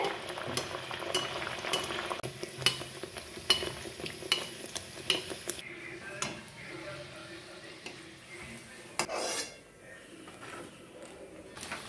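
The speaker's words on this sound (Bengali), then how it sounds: "এইভাবেই আমি সমস্ত লুচিগুলো ভেজে নেব।" Potato-spiced atta luchi deep-fry in hot oil, a bubbling sizzle under repeated stirring clicks and utensil taps that thin out toward the end, close and without speech.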